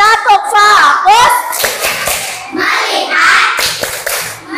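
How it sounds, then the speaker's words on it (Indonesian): Children in a third-grade primary school class do a focus clap (tepuk fokus) together, with loud rhythmic claps mixed with their chanting voices and a teacher's speech. "1, 2, 3, tepuk fokus"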